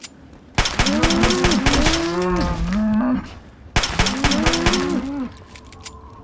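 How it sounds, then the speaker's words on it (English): Mutant Brahmin cattle in Fallout 3 let out loud, close, overlapping moos, several drawn-out bellows in a first burst and a shorter second burst after a brief gap. "a bunch of mad cows"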